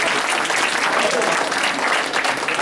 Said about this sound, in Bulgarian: Също така имам рожден ден и за това може да ръкопляскате.